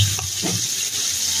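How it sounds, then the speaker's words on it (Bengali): Whole cinnamon, a few black peppercorns and cloves sizzle in hot oil in a pan for khichuri. The frying hiss is steady and close, with brief stirring clatter, and nobody speaks. "এখন দিয়ে দিলাম দারচিনি, কয়েকটা গোলমরিচ আর হচ্ছে লবঙ্গ।"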